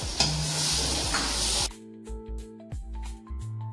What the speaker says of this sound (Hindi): टमाटरों की अब मैं भुनाई करूँगी तकरीबन 1 मिनट।